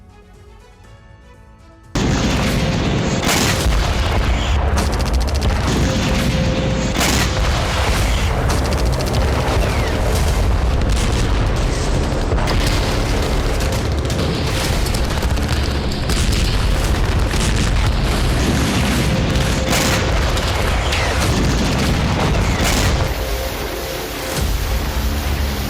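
Heavy bombardment in Gaza, with loud booming blasts and rumbling explosions rolling almost continuously after a brief quiet opening, dense low thuds layered over one another with no speech.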